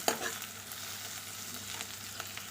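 Okra fried with masala sizzles steadily in a pan as it is stirred, a close continuous crackle with a sharper clack near the start and a few soft scrapes throughout.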